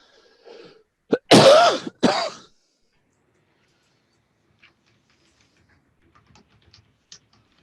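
A short burst of harsh coughing, two or three quick hacks close to the mic, then near silence with a few faint clicks.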